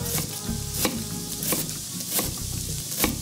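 Garlic sizzles loudly in a pan close by, with regular sharp knocks and scrapes of a utensil punctuating the hiss.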